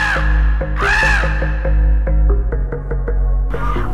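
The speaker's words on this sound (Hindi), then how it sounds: "कौआ काए काए कर रहा था।" A crow caws several times in a row, loud harsh calls spaced at uneven intervals against steady low background noise, with no other voices.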